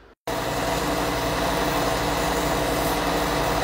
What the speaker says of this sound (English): it left a sharp edge that we're gonna take off on the belt sander.